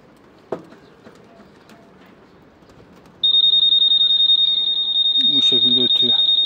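A Honda PCX scooter's alarm kicks in partway through as a loud, continuous high-pitched electronic tone, with a short burst of talk over it near the end.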